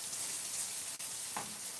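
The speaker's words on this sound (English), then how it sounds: "But we are frying those mushrooms." Mushrooms fry in a pan with a continuous, fairly quiet crackling sizzle, broken by a single soft tap and a short stirring scrape near the end.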